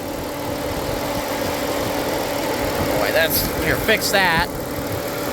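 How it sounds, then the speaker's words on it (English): A 1997 Dodge Grand Caravan SE engine, left abandoned for over four years, runs at idle with a steady droning hum and a slight surge, while someone speaks briefly over it. "But it's surging idle."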